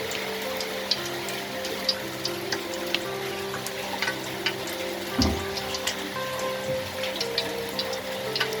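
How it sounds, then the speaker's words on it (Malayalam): Cooking oil heats in a hot pan while chicken fried rice is being made. A soft, steady sizzle runs throughout with scattered small crackles and pops, and one slightly louder bubbling burst comes midway. "ഓയിൽ ഒഴിക്കുക."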